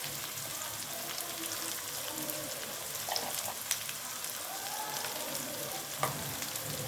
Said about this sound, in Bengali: পেঁয়াজগুলো এখন আমি একটু হালকা ভেজে নেব। এখন দিয়ে দেব কাঁচা লঙ্কা কুচি।